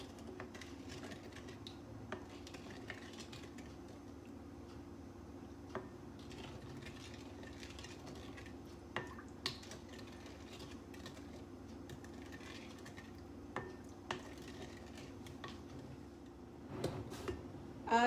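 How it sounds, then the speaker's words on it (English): Margarine is stirred in a bowl for oatmeal bread, a spoon tapping and scraping against the bowl in soft, irregular clicks over a quiet steady hum. "Stir it a little bit."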